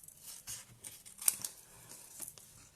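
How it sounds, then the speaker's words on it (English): Embossed butterfly-patterned paper is cut by hand with scissors, faint close snips and soft paper rustles in quiet surroundings. "I'm just cutting it by hand for quickness"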